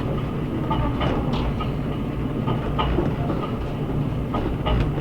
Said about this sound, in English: Listen to the clickety-clack.